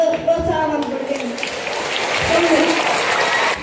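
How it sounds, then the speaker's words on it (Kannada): Audience at a school Independence Day celebration clapping for a dance team, a loud, dense stretch of applause with some background voices and music fading under it. "ಕೈ ಚಪ್ಪಾಳೆ ಕೊಟ್ಟು ಪ್ರೋತ್ಸಾಹ ಮಾಡಿಕೊಡ್ತೇನೆ"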